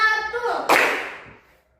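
A classroom group claps once in unison on a teacher's count during a lesson. The single sharp clap lands in the middle, following a voice and tailing off quickly.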